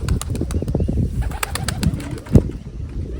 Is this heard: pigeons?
yes